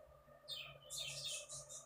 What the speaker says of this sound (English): if you hear some birds in the background